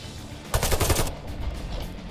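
Burst of automatic rifle fire in Warface, a quick stuttering volley of close, loud shots lasting about half a second, then a quieter rattle fading behind it.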